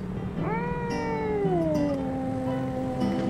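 A cat in DreadOut 2, found at a school, lets out one long, drawn-out meow that slides downward, clear and close over a low game ambience.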